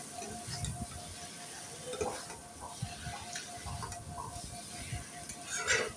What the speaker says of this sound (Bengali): এবার আমি মাছগুলো দিয়ে আবার একটু নাড়াচাড়া করে দিব।